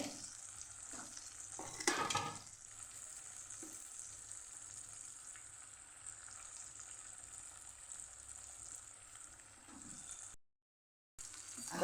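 Boiled vegetables stirred into sautéed masala in a pan on a low gas flame for a stuffed brinjal and potato curry, giving a soft steady sizzle with scraping stir strokes, one louder near the start, and no talk.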